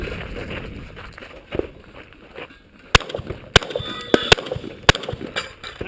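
A shotgun fired outdoors in several sharp, loud single blasts spaced a second or so apart, with quieter footsteps and handling noises between shots.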